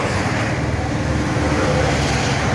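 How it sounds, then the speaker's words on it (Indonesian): Roadside traffic beside a busy main road in Ngampurane, a continuous low rumbling roar of passing vehicles and engines, steady and moderately loud with no talking. "Kita lagi berada di pas pinggir jalan raya Ngampurane ya agak berisik"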